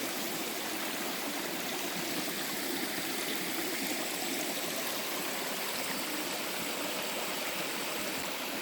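A mountain valley stream rushes over rocks, a steady close broadband flow of water with gurgling texture, continuous and alone throughout.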